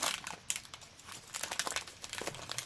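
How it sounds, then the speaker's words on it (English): A packet is cut open with scissors while its wrapper crinkles and rustles, giving a steady run of close crackling with a few sharper snips and tears. "I'm not seeing a tear strip, so let me get my scissors"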